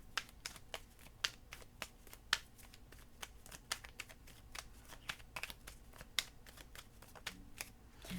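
Tarot cards are shuffled and drawn during a Pisces reading, giving a series of crisp, close paper snaps and flicks in an irregular rhythm over a quiet background.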